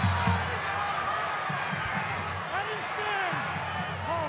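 Continuous noise from a rugby league crowd at GIO Stadium in Canberra, with whistles and rising whoops scattered through it. Loud and steady, with commentary voices over the top.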